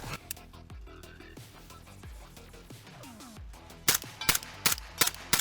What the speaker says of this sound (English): This will be full mag dump.